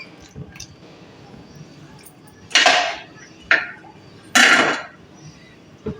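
Mango sharbat (keri ka sharbat) is poured into a jug in three loud, close splashing gushes, each lasting about half a second to a second. Soft kitchen clinks and handling noises fill the quiet gaps between pours.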